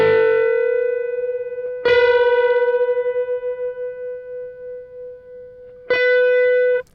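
A sustained, distorted electric guitar note with a wavering, pulsing beat that slows and speeds, struck again twice with fresh attacks.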